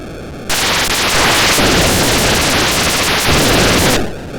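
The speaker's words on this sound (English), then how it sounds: "Blowing up enemy ships is hugely satisfying, and just listen to those explosions." Loud, continuous roaring static-noise explosions as enemy ships are blown up in the Atari 2600 space game Starmaster, a dense burst lasting several seconds between brief electronic tones.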